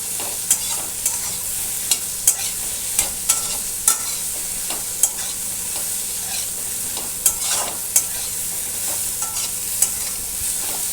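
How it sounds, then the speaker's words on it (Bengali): Soya chunks frying on a low flame in a pan, with a steady soft sizzle and regular sharp scraping taps of a spatula stirring, close and alone without talk. "আর এটা একটু লো ফ্লেমে ভাজবো, যাতে একটু ভালো করে ভাজাটা হয়"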